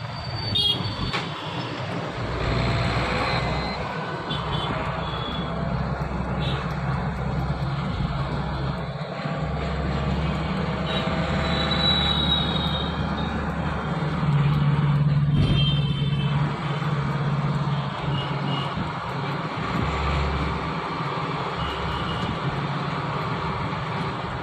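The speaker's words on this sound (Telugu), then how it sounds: "దగ్గర దగ్గర 2 కిలోమీటర్ ట్రాఫిక్ ఉంది" Dense road traffic jammed near Raj Bhavan in Hyderabad makes a steady, close rumble of idling and creeping engines, continuous throughout, with occasional louder passing vehicles and faint horn-like tones.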